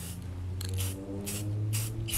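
Spray paint hisses onto a sweatshirt in several short, close bursts, each a sharp airy spurt, over a steady low background hum.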